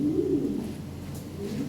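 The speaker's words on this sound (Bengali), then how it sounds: "দেখেন অনেক সুন্দর কবুতর" European Lahori and Sirazi pigeons give a low, soft cooing, one brief rolling coo heard up close with no voices.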